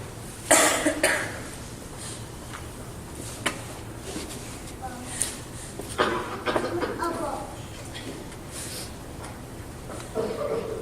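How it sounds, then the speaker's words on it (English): Someone coughs harshly in several bursts, close by, with a few rough throat sounds and short pauses between fits. "You're coughing up blood."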